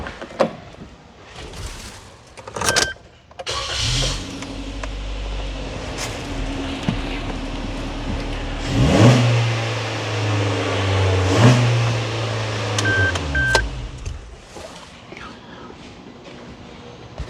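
A Suzuki Jimny 3-door's engine cranks and catches, then runs at a low idle with a couple of brief rev swells drawing air through the intake, fairly quiet with scattered clicks and knocks.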